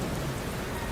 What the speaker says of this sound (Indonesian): Hujan-hujan. Hujan-hujan yo.